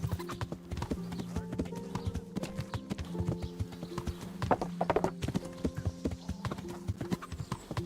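Horse hooves clip-clop in Kingdom Come: Deliverance, a steady, close rhythmic stream of hoofbeats on a road while a tired horse is ridden, with other faint game sounds behind.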